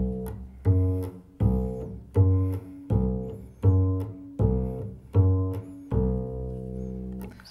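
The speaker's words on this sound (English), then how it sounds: "my job in the bluegrass band is I play on the on beat" A double bass in a bluegrass band plucks steady notes on beats one and three, eight even, deep booming tones roughly a second apart that each swell and decay, played alone and close.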